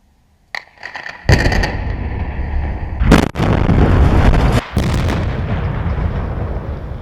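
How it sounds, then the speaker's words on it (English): A sharp crack followed by a massive booming blast as an I-35 ramp bridge in downtown Kansas City is imploded, rumbling on, with a second heavy burst rolling into a long, loud roar of debris. "with a flash and a loud bang, crews imploded the now closed northbound I-35 ramp bridge"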